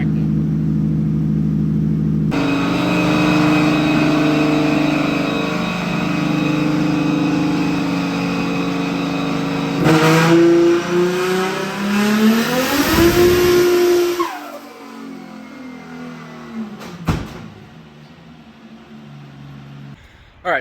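An Audi engine revs hard on a dyno and climbs in pitch for several seconds, then drops off and burbles down, loud and close, with brief pops near the end.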